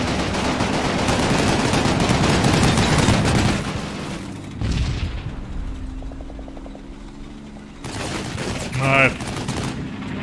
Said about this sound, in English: there's still the machine gun in there